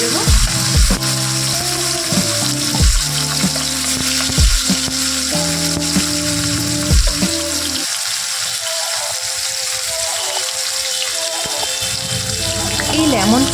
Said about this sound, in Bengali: এবার আমি এতে মাংসের পিসগুলো ভেজে নেব।